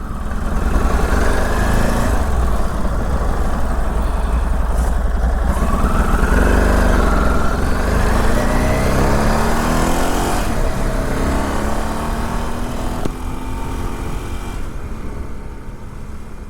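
A 2005 Ducati Multistrada 1000DS motorcycle on a ride, its engine loud and close, rising and falling in pitch as it accelerates through gears, with steady wind and road rumble underneath.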